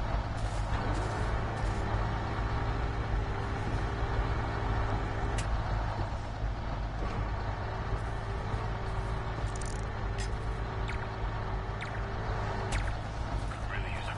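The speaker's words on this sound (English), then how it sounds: "Truck's about to move." In the Spider-Man video game, a truck's air brakes release with a sustained broadband hiss over a rumbling idling engine, steady and loud throughout, with occasional short clanks.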